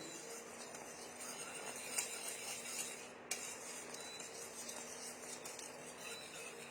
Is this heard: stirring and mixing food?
yes